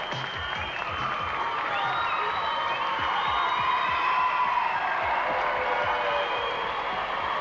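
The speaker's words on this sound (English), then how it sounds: "big round of applause for all the riders" A crowd at a 1986 BMX freestyle competition final applauds and cheers the riders in a continuous, even roar of clapping, with faint whistle-like tones drifting over the top.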